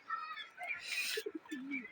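Pet pigeons coo softly nearby at feeding time, a few low, throaty notes following higher chirps, close and fairly quiet.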